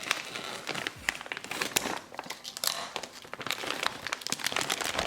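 Plastic crinkles and crackles close by as a frozen meatball bag is cut open, with repeated rustling handling sounds and small snips over a few seconds, no speech.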